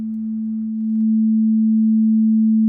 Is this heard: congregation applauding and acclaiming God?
no